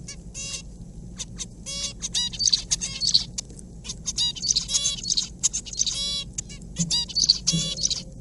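A songbird sings clearly in a lab recording, with repeated bursts of rapid chirps and trills in an even, stereotyped pattern over a quiet low background.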